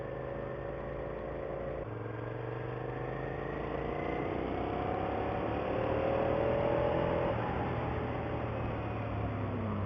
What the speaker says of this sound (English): After changing the exhaust, the stock exhaust, we want to see what it sounds like.